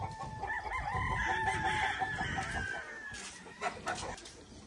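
Chickens on a farm cluck while a rooster crows a drawn-out call, followed by a few scattered clucks, all fairly faint against the outdoor background.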